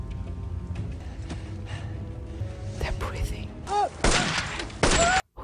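Gunfire from the 2016 war film Hacksaw Ridge: a low, quiet rumble gives way to two sharp, loud bursts near the end, with hushed voices talking over it.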